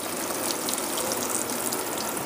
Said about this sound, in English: I like to use hot water for a final rinse.